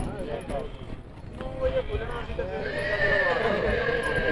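A dark-coated mare at a horse market, whinnying close and loud over a steady background of crowd chatter and market noise, with hooves clip-clopping beneath.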